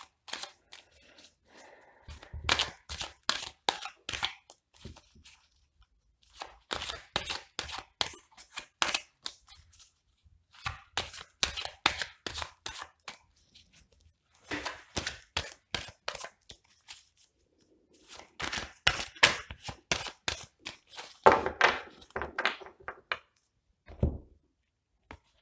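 Tarot cards being shuffled and cut, close crisp riffling bursts of crackling card flicks in several separate rounds with short pauses between, fairly quiet and alone.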